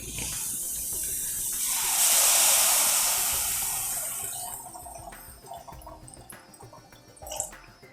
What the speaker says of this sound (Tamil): 1/2 லிட்டர் கிட்ட தண்ணி விட்டுட்டேன்.